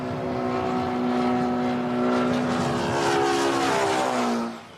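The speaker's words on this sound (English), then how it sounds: "The plane produces sound waves." Propeller airplane flying past near Hong Kong International Airport, a loud sustained engine drone that audibly bends down in pitch as it passes, then fades at the end.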